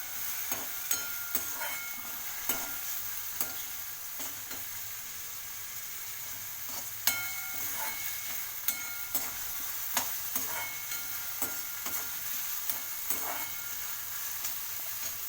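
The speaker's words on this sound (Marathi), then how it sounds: "हे छानपैकी असं ब्राऊन होईपर्यंत मस्त परतून घ्यायचं आहे आपल्याला" Onions and spices, with a little chilli powder, sizzle steadily in a pan for fried rice, with a soft continuous hiss broken by repeated sharp scrapes and clicks of a spoon stirring.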